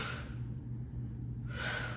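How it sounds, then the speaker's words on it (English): Audible breathing during a Pilates mat ab curl exercise, a breathy exhale followed after a pause by an inhale, close and soft over a low steady hum. "Exhale, inhale."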